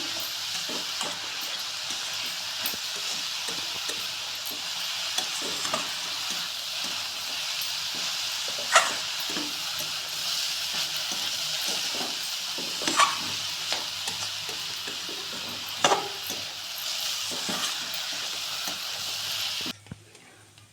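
Bay leaves sizzle in hot ghee in a pan for carrot halwa, a steady close hiss with occasional scraping stir clicks, continuing without speech until an abrupt cut near the end.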